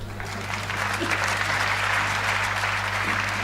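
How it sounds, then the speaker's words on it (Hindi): Audience applause at a Hindi comic poetry show, a dense steady clatter of many hands clapping throughout, fairly loud and continuous, with faint crowd murmur underneath. "ताली तो अब अगली पंक्ति पे बजाना आप"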